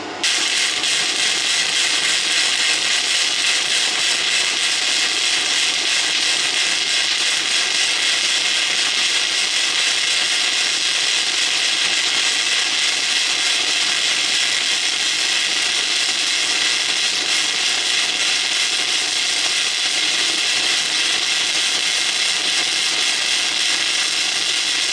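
A budget flux core MIG welder runs a bead, with a continuous loud sizzling crackle held steady and close for the whole stretch, with no talking.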